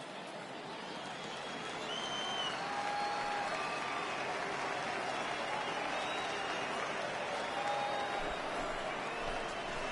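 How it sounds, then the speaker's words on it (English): A baseball stadium crowd at a Lookouts versus Biscuits game fills the air with a steady, dense murmur of many voices, rising slightly and holding level throughout. "I can hear the crowd murmuring now"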